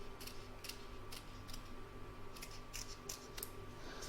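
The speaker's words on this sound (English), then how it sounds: "I'm going to trim along this stitch line, taking care not to actually cut the stitching" Scissors trimming fabric along a stitch line on an embroidered placemat, a series of faint, crisp snips in short clusters over a low steady hum, with no talking.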